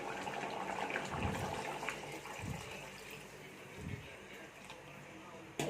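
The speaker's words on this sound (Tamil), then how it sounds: "இந்த டைமில் நம்ம குழம்புக்கு தேவையான அளவு தண்ணி சேர்க்கலாம்." Water is poured into a pot of mutton curry cooking in a village kitchen, a faint running splash with a few soft bubbling bursts, fairly quiet overall.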